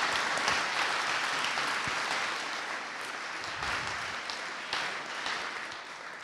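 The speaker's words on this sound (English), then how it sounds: "Let's have a round of applause for Joe." Sustained audience applause fills a lecture hall after a talk by Prof. Joseph Stiglitz on AI and digital platforms, a dense, steady wash of many hands clapping that eases slightly toward the end.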